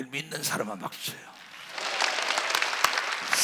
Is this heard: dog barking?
no